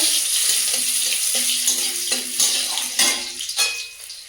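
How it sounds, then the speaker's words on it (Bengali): Panch phoron spices and chopped onion fry in a hot wok with a steady, close broadband sizzle, stirring scrapes and light clinks of a utensil against the pan, no talk. "কড়াই দিয়ে দেবো পাঁচ ফোড়ন পেঁয়াজ কোচা"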